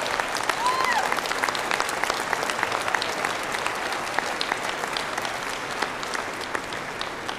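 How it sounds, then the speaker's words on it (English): Audience applause at a United Methodist General Conference higher education report, a steady wash of many hands clapping in a large room, sustained and even throughout with some crowd murmur beneath. "Let's give them all a round of applause."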